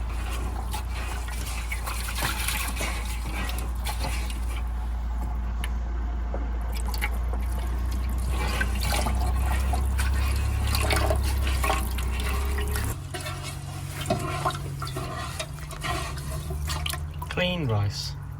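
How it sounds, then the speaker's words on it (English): Rice being washed in water inside a Volkswagen California campervan gives steady trickling and dripping over a low background hum, with people talking over it. "Clean rice. No, you have to wash three times."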